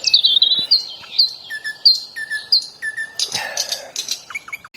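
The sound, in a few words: bird chirping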